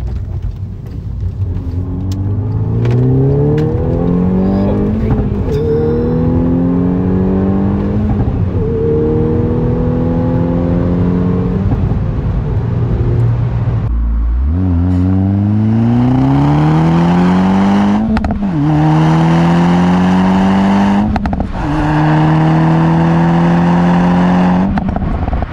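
A Volkswagen Golf 6 R with four-wheel drive accelerates hard down a straight, its engine climbing in pitch through several gears with brief shift breaks, loud and close throughout.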